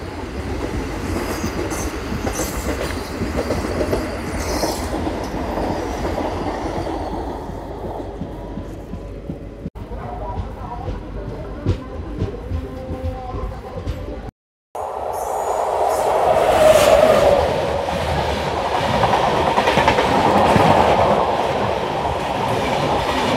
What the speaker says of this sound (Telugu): తిరుపతి సికింద్రాబాద్ వందే భారత్ ఎక్స్ప్రెస్.